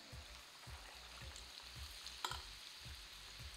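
Batata vada, besan-coated potato dumplings, frying in hot oil with a steady soft sizzle and a faint low rhythmic pulse, plus one brief sharp clink partway through.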